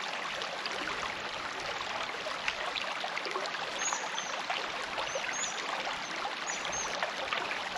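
A creek in bushland near a camping setup flows with a quiet, steady trickle and babble of water, continuous and fairly soft, with no voices.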